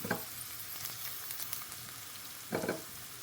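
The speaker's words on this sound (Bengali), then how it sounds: "ঘি গরম হয়ে গেলে আস্তে আস্তে আমি পেঁয়াজ দিয়া দিলাম" Onions fry in hot ghee with a soft, steady sizzle, broken by two louder bursts of stirring and crackle at the start and near the end; no one talks.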